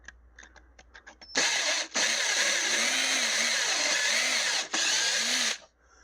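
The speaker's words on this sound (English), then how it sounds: "Drill a pilot hole in there." A power drill bores a pilot hole into a cabinet where a stripped hinge screw hole was packed with glue and toothpicks, whining loudly and steadily in two long bursts after a few soft clicks, with a brief pause between runs.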